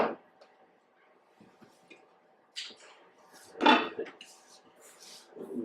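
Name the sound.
slow cooker pot being set in place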